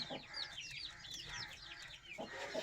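A hen clucks softly among newly hatched chicks sired by a red kekkera rooster, with thin, high peeps scattered throughout, faint and fairly distant.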